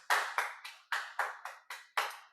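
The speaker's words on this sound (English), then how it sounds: "Round of applause." Seven separate, evenly spaced hand claps ring out close and clear at a demo day presentation, each sharp slap trailing off before the next, suggesting a small audience.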